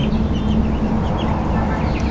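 Thirteen-day-old broiler chickens cluck and chatter continuously at close range while being fed, a dense, busy flock murmur.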